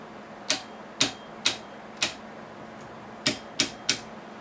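A torque adapter set to 0.45 newton metres gives sharp, dry clicks, seven in quick irregular succession with a short pause midway, close and crisp over a quiet background.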